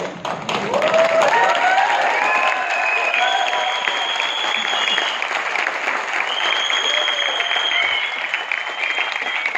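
Applause at an MTM network-industry event in Chandigarh, with long whistle tones rising and gliding above the sustained crowd clapping across the whole stretch.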